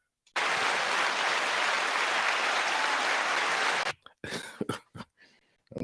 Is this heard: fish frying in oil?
no